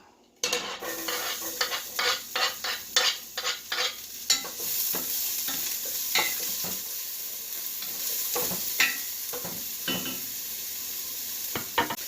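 Onions land in olive oil in a hot pan and fry with a bright, steady sizzle, punctuated by a run of quick clacking stirs and scrapes of the utensil against the pan, close up with no talk.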